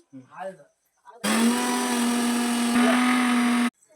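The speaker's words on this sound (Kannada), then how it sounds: "ಉಪ್ಪನ್ನು ಹಾಕಿ ಈಗ ಮಿಕ್ಸರ್ ಹಾಕ್ಬೇಕ? ಅದಕ್ಕೆ ಮಿಕ್ಸಿ ಮಾಡಿ." A kitchen mixer grinder blitzing cumin seeds, green chillies and salt, starting abruptly with a loud, steady whirring roar that runs about two and a half seconds before cutting off, with brief talk just before it.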